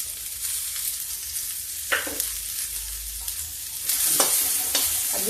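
Onions frying in a pan with cumin and garlic for a Hindi-style matar nimona, a steady broadband sizzle with a few scraping stirs of a spoon, close and alone without any talk.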